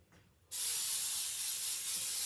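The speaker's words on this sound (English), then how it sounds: "we're gonna spray this. And I'm just using Baker's Joy today" After a brief quiet moment, an aerosol can of Baker's Joy baking spray bursts into a loud, steady spray hiss that continues without a break.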